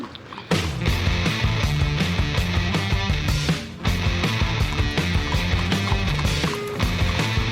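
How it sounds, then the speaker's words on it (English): Horses trot with a busy, steady clip-clop of hooves, loud and close, carrying on without pause across the stretch with no talk over it. "Once around the park, James, and don't spare the horses."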